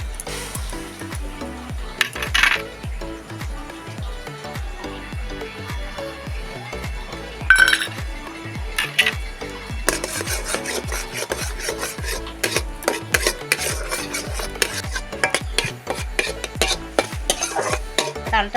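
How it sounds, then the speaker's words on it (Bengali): Palm fruit pulp heats and is stirred in a wok with oil while preparing palm mohon pitha, giving a steady scraping and rasping rhythm of utensil against metal, with occasional louder clanks, close and continuous with no talk. "কড়ার মধ্যে দিয়ে দিচ্ছি তাল"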